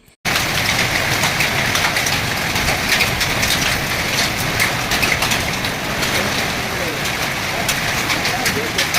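Heavy rain pours steadily in a dense, loud hiss that starts abruptly and continues without pause, following a hailstorm with large hailstones.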